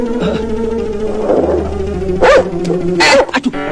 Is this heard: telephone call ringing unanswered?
no